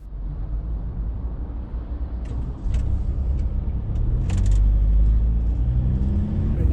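Inside a campervan crawling through motorway roadwork traffic jams, a low engine and road rumble grows steadily louder, with brief hissing bursts from nearby vehicles.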